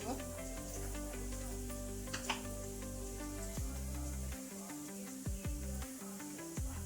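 A steady, close sizzle and crackle of spice paste and a bay leaf frying in hot oil, hissing continuously throughout.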